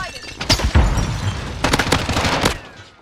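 Video game gunfire sounds in two rapid bursts of sharp shots, the first near and punchy and the second a longer rattling volley, with no talk in the clip.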